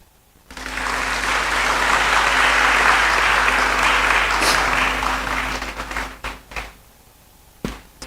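Audience applause at a University of Ghana NKABOM launch event as a speaker returns to his seat: a dense, sustained wash of clapping for about six seconds, with a steady low hum underneath, then thinning to a few scattered claps.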